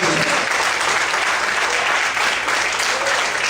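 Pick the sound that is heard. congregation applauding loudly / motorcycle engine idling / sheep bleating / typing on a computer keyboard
congregation applauding loudly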